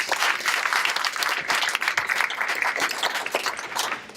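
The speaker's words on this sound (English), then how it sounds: "let's give a round of applause" An audience at a startup showcase event claps continuously, a dense wash of applause from a sizeable crowd that holds steady throughout without any speech over it.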